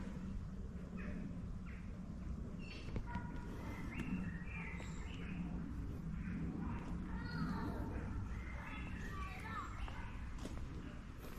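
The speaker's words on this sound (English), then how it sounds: "They sing so sweetly at this time of evening." Birds call and chirp through a park on an evening at Bedfords Park, with scattered light tweets and songs over a soft outdoor background, while a person talks quietly now and then.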